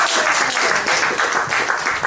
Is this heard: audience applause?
yes